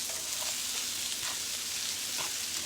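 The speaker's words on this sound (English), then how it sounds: "That's those ear mushrooms popping." Wood ear mushrooms frying in a pan, giving a steady close sizzle with small pops and crackles scattered through it, heard alone.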